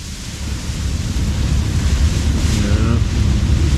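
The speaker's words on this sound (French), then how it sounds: "un grain avec des rafales de vent de plus de 35 nœuds est survenu" A squall with wind gusts over 35 knots hitting a sailing boat at anchor in Scotland, loud roaring wind buffeting the microphone with low rumbling turbulence, steady and close throughout.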